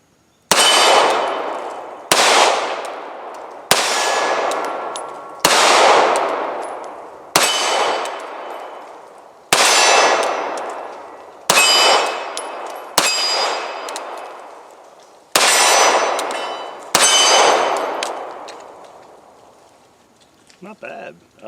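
Ten well-spaced shots from a CZ 2075 Rami 9mm subcompact pistol, each followed by a ringing clang of steel targets that decays slowly before the next shot, sharp and close in a steady rhythm.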